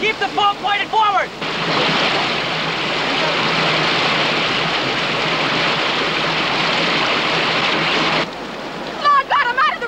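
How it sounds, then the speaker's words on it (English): White water river rapids roar in a loud, steady rush of churning water that fills the scene for several seconds, with shouted voices briefly before and after. "White water ahead! Keep the boat pointed forward!"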